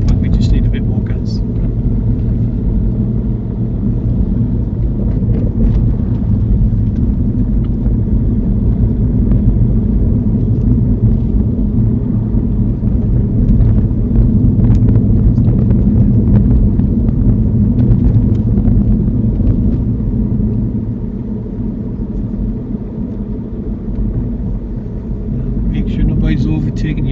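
A car's engine drones low and steady inside the cabin during a driving lesson, rising slightly in rumble as it takes more throttle, with people talking over it most of the time.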